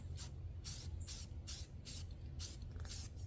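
Base coat being spray painted onto a rifle from an aerosol can, including around the magazine well, heard as six short hissing bursts in a regular rhythm over a low steady hum, close and without speech.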